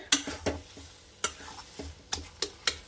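A utensil repeatedly scrapes and knocks against a pan while stirring a sweet filling for Gokul pitha over raised heat. The strokes are sharp and irregular, about eight of them, over a faint sizzle, with no voices.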